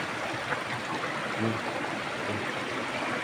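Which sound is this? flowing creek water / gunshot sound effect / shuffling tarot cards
flowing creek water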